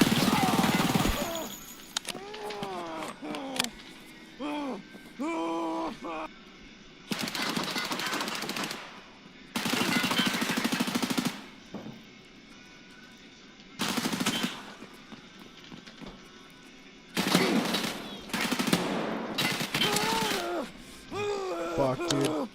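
Gunfire from a video game comes in repeated rapid bursts, loud and close. The bursts are separated by stretches of someone talking in between.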